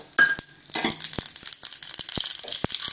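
Mustard seeds and spices crackle and sizzle in hot coconut oil in a pan, with sharp popping bursts and a steady hiss, close and fairly loud with no talking.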